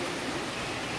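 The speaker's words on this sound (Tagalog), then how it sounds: "Ulan na." Rain falls as a dense, even hiss of steady downpour that fills the whole moment.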